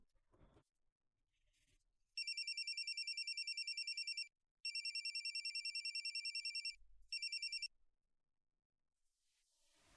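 A telephone rings in three electronic trilling bursts, the last one shorter, loud and close against an otherwise quiet room.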